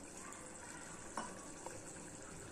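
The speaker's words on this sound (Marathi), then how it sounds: "थोडंसं पाणी घालू" Water pours steadily into a pot of cooking moong vadi with brinjal, a soft, continuous rushing splash broken by a couple of faint clinks.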